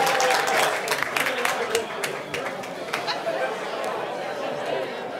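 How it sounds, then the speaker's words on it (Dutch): Applause from the audience at a sport and business awards ceremony starts as a burst of scattered clapping and then thins into crowd chatter as the room settles. "En daarbij nog een heel groot applaus voor de RTV NOF."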